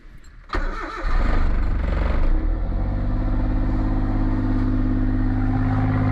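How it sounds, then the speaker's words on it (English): A Suzuki Alto Works car engine cranks and catches after a sharp click, then settles into a steady, loud idle that holds close and alone. "Step 2, let's start the car."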